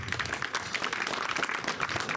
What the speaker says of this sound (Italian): Un applauso a Luca.